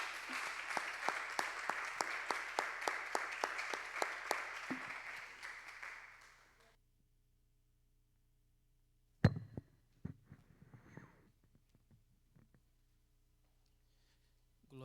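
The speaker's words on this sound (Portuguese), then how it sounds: "Vamos ficar de pé e pode aplaudir ao nosso Deus." Congregation in a church applauding with steady rhythmic clapping that fades out after about six seconds, followed by near silence and a few brief thumps and rustles.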